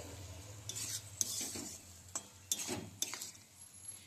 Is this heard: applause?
no